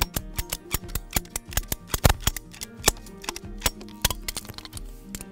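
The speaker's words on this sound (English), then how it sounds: "that's exactly where I'm going to cut that pipe" Plastic pipe being cut for a subterranean ground-source manifold, a close series of sharp irregular clicks and cracks with brief pauses, loud and alone without talk.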